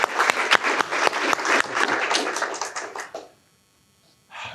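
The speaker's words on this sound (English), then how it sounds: "Can we get a round of applause for our presenter?" Audience at a climate talk applauding a presenter, a burst of close, dense clapping for about three seconds that fades to silence before brief renewed noise at the end.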